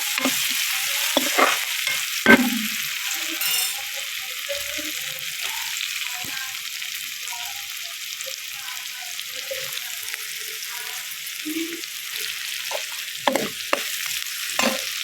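Curry leaves, cumin and sauces sizzling in a pan with pasta, a steady close frying hiss with occasional stirring scrapes and clinks, no talking.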